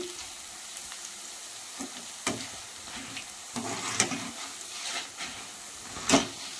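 Gram-flour batter frying in hot oil, a soft steady sizzle with scattered sharp pops and crackles, moderately close and fairly quiet.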